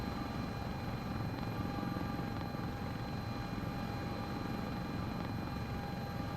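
Steady, continuous rotor and turbine drone of an S-76 helicopter in the Microsoft Flight Simulator 2024 game, an even unbroken whine with a constant tonal hum, heard alone without talk.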